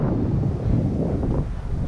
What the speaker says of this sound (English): when you're on the boat, it's windy